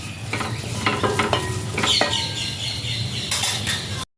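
Coriander seeds crackle and rattle in a hot pan as they are roasted and stirred, with light scraping and scattered pops, fairly close and without any talking.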